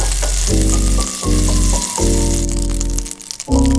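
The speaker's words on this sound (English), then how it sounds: "Melt 1 tablespoon of butter in the pan to grease the pan complete." A tablespoon of butter melts in a large pan over low to medium heat, with a strong, steady sizzle that runs throughout under tonal background music.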